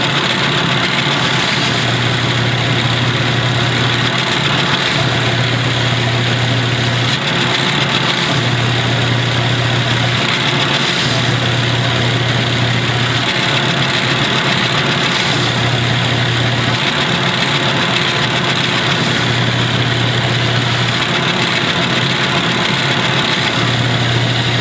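Sander shaping a wooden turkey box call freehand, giving a loud, steady motor whine with a faint pulsing rise and fall as the wood is pressed against it and eased off; no talking.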